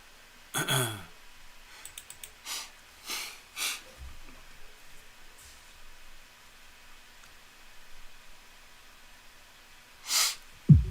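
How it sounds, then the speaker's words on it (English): Tarot cards being shuffled during a live reading: quiet, scattered papery riffles and soft clicks in short bursts separated by near silence. "I'm going to shuffle up, shuffle up, shuffle up."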